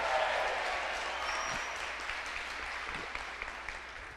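A church congregation applauds during a sermon, a dense, steady wash of clapping that holds at moderate level and slowly thins, with a few louder claps standing out near the end.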